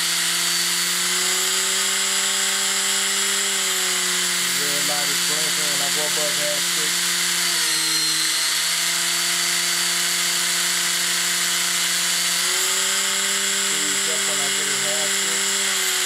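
An RC helicopter's motor, run by a Turnigy AE 45A brushless ESC in governor mode, whines loudly and steadily with a high tonal pitch that dips and rises as the head speed changes, accompanied by faint rattling.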